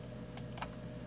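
Two quick mouse clicks, a short pause apart, on the start button of setup software for a FeiyuTech Mini 3D brushless gimbal; faint and close against a steady low hum, with no voices.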